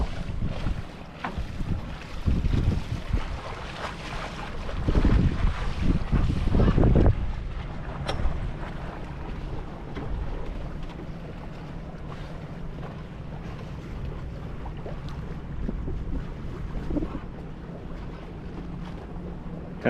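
Sailboat moving at about 3 to 4 knots in wind, loud gusting wind buffeting the microphone with low rumbling surges early on, then settling to a steadier rush of wind and water, no voices.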